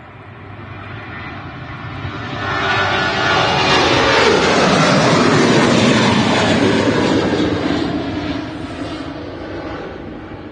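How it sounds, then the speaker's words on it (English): Ryanair Boeing 737 airliner rolling for takeoff at Manchester Airport, a loud jet roar building from a distant rumble to a sustained peak and slowly fading, heard alone. "And the Ryanair is rolling."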